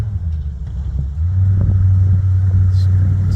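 A Bombardier tracked machine drives out toward a customer's trailer, its engine a steady low rumble that swells and holds loud after the first second, close by, with no talking.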